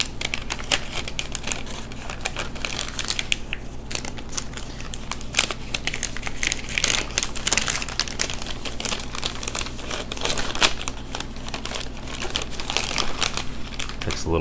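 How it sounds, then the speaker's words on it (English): Plastic MRE ration bag crinkles and rustles loudly and continuously as a Lithuanian field ration's contents are crammed back inside, with irregular crackling bursts close to the microphone. "we're going to cram it back in this bag"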